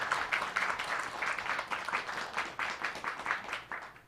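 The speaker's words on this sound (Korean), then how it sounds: "우리 박수로 한번 환영하겠습니다" A church congregation applauds to welcome visiting pastors at a Sunday service, steady clapping from many hands in a pulsing rhythm at moderate volume.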